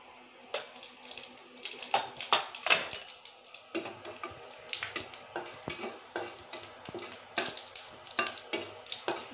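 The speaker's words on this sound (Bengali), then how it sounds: "আর এখানে ফোড়নের জন্য দিয়ে দিচ্ছি জিরে।" Cumin seeds tempering in hot oil for a fish kalia, a faint crackling sizzle broken by frequent light clinks and scrapes of a utensil against the pan.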